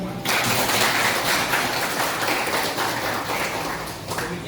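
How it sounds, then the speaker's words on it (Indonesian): A gathering at an Indonesian teachers' academic supervision session breaks into applause, a thick, even wash of many hands clapping that holds steady and loud from start to finish. "sekali lagi tepuk tangan untuk kita semua"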